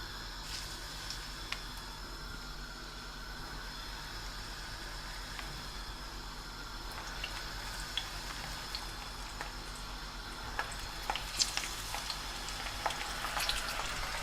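Aubergine slices fry in hot oil with a quiet, continuous sizzle. Scattered soft pops and crackles build a little toward the end, with no voices.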